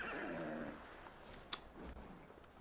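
A horse whinnies briefly in Ghost of Tsushima, followed by a sharp click and quiet rustling.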